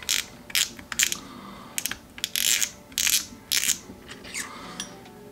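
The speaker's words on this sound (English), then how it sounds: "we're gonna take this drag off here. You just loosen this top nut there." Penn Wrath spinning fishing reel having its top drag nut loosened to remove the drag: a series of close, sharp ratcheting clicks and gritty metallic turning bursts, irregular and quiet, with no talking.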